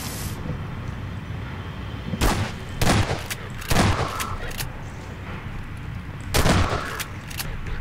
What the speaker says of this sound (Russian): двойной выстрел дробовика с двойным зарядом